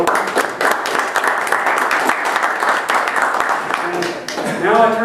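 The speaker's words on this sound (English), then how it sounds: "I would like everybody to join me with an applause for this group's achievements" Audience applause at a group's final presentation, a steady dense wash of clapping that carries on throughout, with a voice starting to speak near the end.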